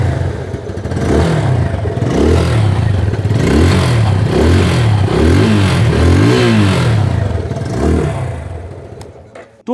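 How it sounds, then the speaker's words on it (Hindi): A Bajaj Pulsar F250 BS6 motorcycle engine revs up and settles repeatedly, a close, loud series of throttle blips with a rising and falling note, ending with a short clatter. "चलिए इसकी जो इंजन की जो साउंड है वो भी मैं"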